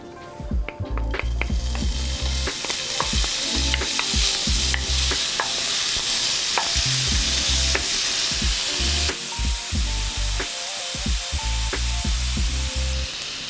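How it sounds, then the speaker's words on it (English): Pancetta bacon frying in olive oil in a pan, loud, close, continuous sizzle with frequent clanks and scrapes of a utensil stirring against the pan, no voices. "I'm gonna start with a little bit of olive oil. I'm gonna add my pancetta bacon"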